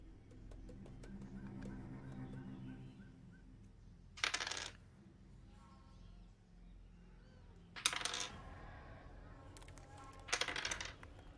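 Dice clatter across a table during a tabletop role-playing game session, three short rattling bursts spaced a few seconds apart, over a low background hum of the room.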